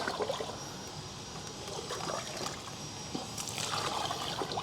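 Tap water is poured into a container of collected rainwater in a vegetable garden, making a faint, steady trickle and splash with a few louder bursts, with no one talking.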